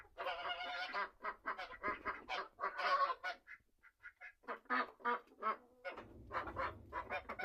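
Geese and ducks squabbling on a farm, a rapid run of loud honks and quacks in bursts, close by, with a short lull midway and a low rumble joining near the end.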